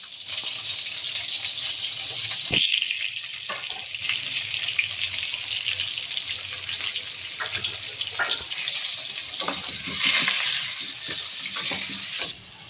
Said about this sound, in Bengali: নুন আর হলুদ দিয়ে আলুগুলো ভেজে নেব।